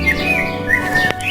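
Cartoon baby birds that have just hatched chirp in thin, high tweets, several short calls scattered over steady background music.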